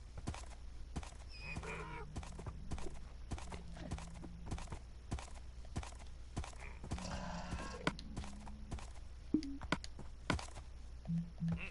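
Steady Minecraft horse hooves clop in a quick, even rhythm, with a few faint whinnies in between, all fairly quiet and without talk.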